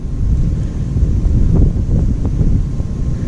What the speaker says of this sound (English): Alright, it's a little too windy.